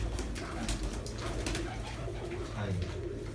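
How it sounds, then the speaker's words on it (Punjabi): Pigeons coo close by in low, throaty, rolling calls that repeat and overlap, with some wing flutters and faint background voices of a rooftop pigeon-keeping setup. "ਹੁਣ ਲਿਆਓ ਕਬੂਤਰ ਫੜ ਕੇ"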